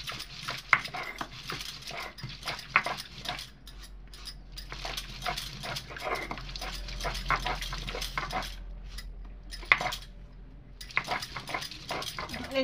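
Chillies being crushed and ground on a grinding stone, a rhythmic series of close scraping and knocking strokes with brief pauses, no talking.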